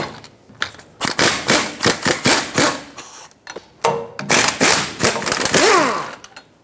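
A power tool, likely an impact wrench, spins off 15mm drive shaft bolts at the front differential of a 2008-2012 Jeep Liberty 4x4, in a string of loud, close, stuttering bursts with brief gaps between them.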